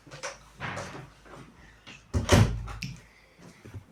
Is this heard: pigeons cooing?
no